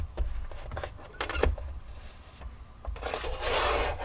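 A paper trimmer blade sliding through cardstock being cut down to card size, giving close rasping, rubbing strokes with a few sharper scrapes and a longer, brighter pass near the end.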